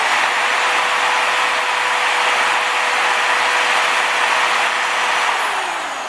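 An electric drill runs at full power while plugged into a Kill A Watt wattage meter, giving a steady, unbroken motor whine with a constant tone throughout, close and fairly loud, with no talk.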